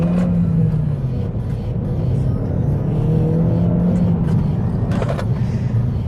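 Opel Astra 1.6 Turbo Sport with a manual gearbox pulling hard under acceleration, its steady engine drone and road rumble filling the cabin loudly, the pitch rising slightly as it builds speed.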